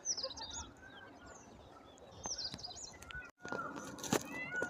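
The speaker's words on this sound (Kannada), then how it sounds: "ಈ ಕೋಗಿಲೆಗಳು ಕುಹು ಕುಹು ಅಂತ ಕೂಗ್ತಾ ಇದೆ ನೋಡಿ." An Asian koel calls among mango and coconut trees, giving repeated rising whistled notes at a moderate distance, with other small birds chirping around it and no speech.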